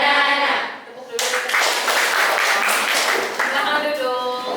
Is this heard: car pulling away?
no